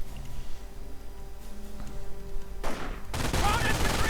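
An MG42 machine gun fires in a World War II strategy game, a loud sustained burst rising over quieter battlefield noise, with someone talking briefly.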